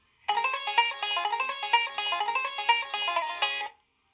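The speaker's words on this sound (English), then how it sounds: "You will know when it's time to turn the page when you hear this little melody." A short, bright chiming melody plays alone for about three and a half seconds, a quick run of bell-like notes with a final accented tone.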